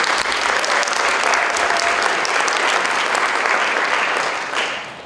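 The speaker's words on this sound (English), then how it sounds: "So, one more round of applause as we get started." Sustained, dense applause from a school band concert audience for middle-school students in grades six through eight, loud and steady throughout, then tapering off in the final half second.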